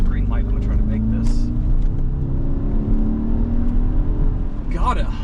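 A 2010 Jaguar XF 4.2 V8 accelerating hard from a green light, heard from inside the cabin as a loud, steady rising engine drone with faint road noise beneath.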